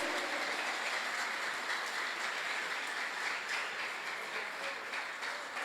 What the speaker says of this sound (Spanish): Dale un fuerte aplauso a ese Dios maravilloso que tenemos.